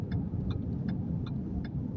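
Cars crawling in a traffic jam in Saudi Arabia, a steady low engine rumble and throbbing hum with faint regular ticking, heard close and continuous with no talk.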